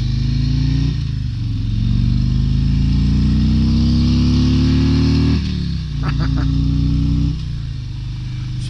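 Steady loud exhaust drone from a 2023 Harley-Davidson Road Glide Limited while riding, a smooth continuous note rising gradually in pitch, briefly dipping around gear changes, with faint wind noise and no talking.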